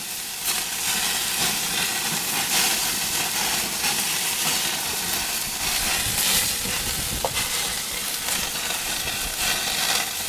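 Lamb steaks with butter cook on a flame grill outdoors in woodland, giving a loud, continuous hiss and crackle of fat flaring up, steady throughout without talk.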